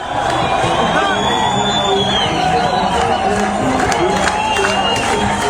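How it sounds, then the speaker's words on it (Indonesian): Palestinians in Gaza fill a street celebrating an Egyptian national football team win, with a dense, continuous crowd roar of cheering, whoops and shouting, close and loud throughout. "Sorak-sorak warga Palestina turun ke jalan untuk merayakan kemenangan tim nasional Mesir."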